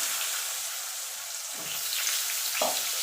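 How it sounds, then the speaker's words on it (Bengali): Potato pieces fry in hot oil with black cumin seeds, giving a steady, close crackling sizzle with a few soft stirring scrapes near the end and no voices. "আলুটা একটুখানি ভাজা ভাজা করে নেবো"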